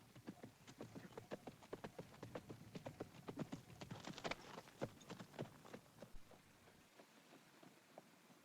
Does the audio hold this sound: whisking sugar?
no